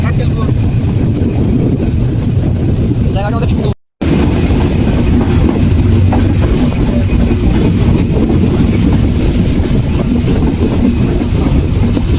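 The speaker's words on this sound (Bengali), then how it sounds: "নীলসাগর এক্সপ্রেস ট্রেনটি ধীরে ধীরে প্রবেশ করিতেছে" The Nilsagar Express train rumbles loudly past a station yard with a steady clattering roar over the rails, continuous and close, briefly cut by a short gap.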